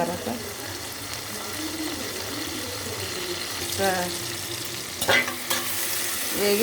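Cashew nuts fry in a pan with a loud, steady sizzle while a spoon scrapes and stirs them, and metallic clinks and a brief, louder clatter rise toward the end; a voice is faintly heard under the cooking.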